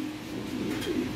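Lahore Siraji pigeons cooing in a loft, a low soft throaty coo rising briefly, close but quiet, with no talk.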